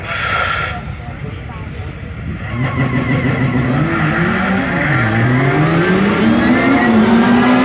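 A supercharged 2.3 litre Honda engine in an Ariel Atom race car at a drag racing event on an airfield revs hard and climbs through gears, loud and close, with a rising, whining pitch that keeps building.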